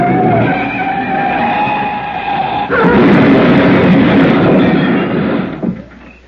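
Radio-drama sound effect of a car on the Pacific Coast Highway, with a loud engine roar and tyre screech that cut into a harsher skid and grinding rumble before fading, as if crashing into granite cliffs.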